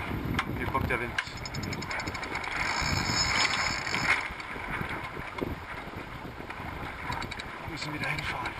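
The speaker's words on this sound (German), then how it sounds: "Hier kommt der Wind." Wind rushes steadily and loudly aboard the sailboat Amanda during a club regatta, mixed with rigging clicks and hull noise while crew voices talk over it.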